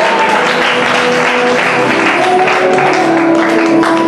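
A church congregation applauds at a deaconess and preacher consecration service, a dense, steady wash of clapping and crowd noise filling the room, with faint tonal voices or music running beneath.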